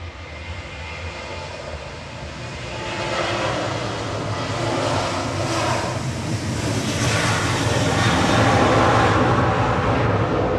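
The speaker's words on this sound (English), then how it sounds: "This is EFY 737-800 on the roll." A Boeing 737-800 rolls down the runway at Manchester Airport on its takeoff run, a broad steady jet roar that swells gradually louder over about ten seconds, with no talking.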